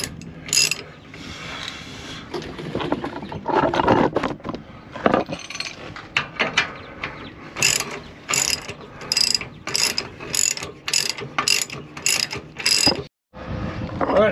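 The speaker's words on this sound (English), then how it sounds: "Torque wrench and torque it to spec." A torque wrench tightens the rear shock absorber bolts on an F550 chassis motorhome, a Thor Magnitude Super C, giving a run of sharp ratchet clicks in rapid bursts, with a final firm click before a brief pause, close and fairly loud.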